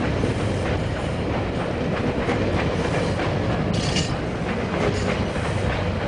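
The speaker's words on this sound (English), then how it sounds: "That's a long GO train." A long GO commuter train rolls past close by, its wheels keeping up a steady clickety-clack and rumble for the whole stretch, with no voices.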